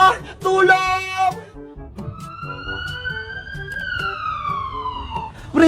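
An ambulance siren sounds as a single loud, smooth wail that rises and then slowly falls for several seconds, with frantic shouting just before and after it in a staged emergency scene.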